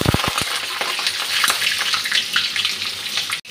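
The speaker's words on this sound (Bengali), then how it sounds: "তেলটা গরম হয়ে গেছে, কাঁচা লঙ্কাগুলা দিয়ে দিচ্ছি আগে। এখন কালো জিরেটা দিয়ে দিচ্ছি।" Nigella seeds and green chillies hitting hot oil for a potol dish, a few sharp pops at the start giving way to a steady, loud crackling sizzle, broken by a brief clatter near the end.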